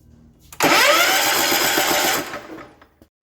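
A John Deere 112H lawn tractor engine, left sitting for years, cranks over after a click, a loud close rhythmic churning that holds steady for about a second and a half before fading off without starting.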